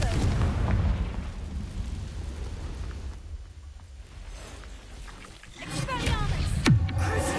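A Confringo blasting spell cast in a Harry Potter–style wizard video game bursts with a loud boom and crackling roar over a rumbling game background, fading to a lull before a second sharp blast and whoosh near the end.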